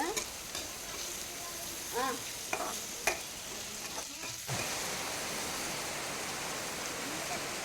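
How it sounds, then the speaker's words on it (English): Ginger garlic paste sizzling with fried onions in a pan for a Kerala-style trevally fish curry, a constant bright frying hiss with a few clinks and stirring scrapes early on, quiet and continuous. "Now let's add the ginger garlic paste to the fried onions."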